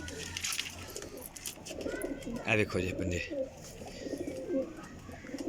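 High flyer champion pigeons coo softly in low, throaty bursts, with someone talking over them throughout.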